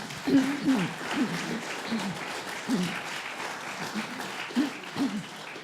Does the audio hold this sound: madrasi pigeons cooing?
no